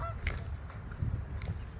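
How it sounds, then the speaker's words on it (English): Geese honk repeatedly at a lakefront, several overlapping calls against steady outdoor rumble and wind, close and moderately loud. "Look at all these geese here."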